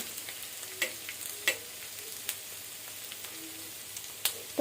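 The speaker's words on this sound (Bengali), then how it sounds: "শুকনো মরিচগুলো আমি একদম কুরকুরে করে ভেজে এক সাইডে রেখে দেবো" Dried red chillies fry in oil toward crispness, crackling as a faint steady sizzle with scattered sharp pops and light scraping ticks.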